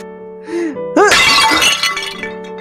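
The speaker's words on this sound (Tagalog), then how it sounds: "Nabasag mo yung flower vase." A flower vase shatters loudly nearby, a sharp crash of breaking glass followed by a scatter of falling shards, with faint music-like tones underneath.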